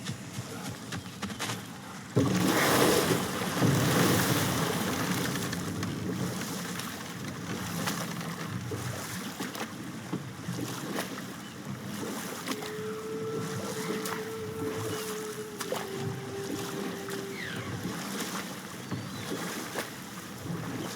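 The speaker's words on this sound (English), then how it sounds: "Waterfalls." A waterfall in God of War Ragnarok roars as a steady, wide wash of rushing water that swells suddenly, then settles into a constant, moderately loud flow with faint tonal game sounds drifting over it.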